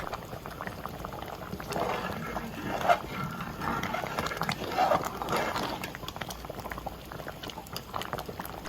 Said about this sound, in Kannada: ಇದು ಚೆನ್ನಾಗಿ ಬೇಯಲಿ.